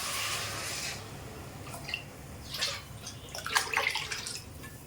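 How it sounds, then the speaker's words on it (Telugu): Water is poured into a pot of rice for prawn pulao, a soft rushing pour at first followed by faint intermittent splashes and sloshes. "ఇప్పుడు వాటర్ అయితే వేస్తున్నానండి"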